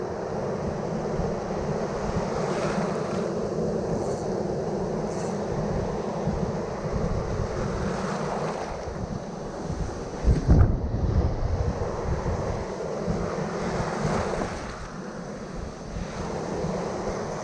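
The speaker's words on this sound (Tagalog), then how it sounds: "Grabe yung alon." Heavy ocean waves heard from a small fishing boat, a continuous roaring wash mixed with gusty wind on the microphone and one thumping swell midway, with no voices.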